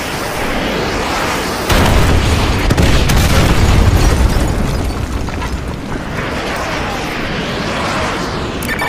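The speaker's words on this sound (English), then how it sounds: "Fire mission received. Artillery inbound." Artillery shells slam down in a Call of Duty: Modern Warfare 2 battle, a continuous loud roar of heavy booming blasts that swells midway and rumbles on without pause.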